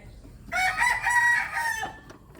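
A rooster among backyard chickens waiting to be fed lets out a single loud, close crow lasting about a second and a half, then falls quiet.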